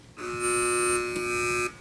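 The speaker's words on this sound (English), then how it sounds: "Teams, wait for the buzzer if you'd like to answer." A single harsh electronic quiz buzzer sounds loudly for about a second and a half, steady and unbroken, then cuts off abruptly.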